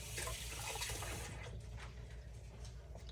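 Tap water running steadily while a jam jar is washed at a kitchen sink, a close, continuous splashing hiss that softens slightly partway through.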